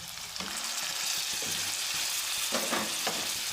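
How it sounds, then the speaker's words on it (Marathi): Chopped tomatoes stirred into fried onion tempering in hot oil for a potato curry, a continuous close sizzle and hiss with occasional stirring sounds and no talking. "तर हे देखील फोडणी छान फ्राय करून घ्यायचं आहे टोमॅटो मऊ होईपर्यंत याला आता परतून घ्यायचं आहे"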